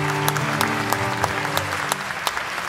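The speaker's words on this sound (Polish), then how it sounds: "Wielkie brawa dla Iwonki i Gosi" A club concert audience in Poznań applauds, with sharp, distinct claps standing out over a lingering sustained tone and a general crowd wash.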